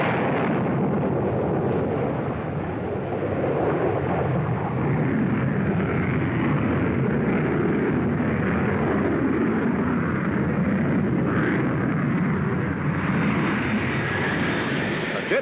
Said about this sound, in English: The superpowered Vulcan is here a flying test bed for a fifth engine, the supersonic Olympus, with reheat installed below the fuselage.